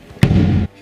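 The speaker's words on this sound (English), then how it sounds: "So here we have the kick drum." A single close-miked kick drum hit, a sharp attack followed by a booming low body that rings for about half a second before cutting off.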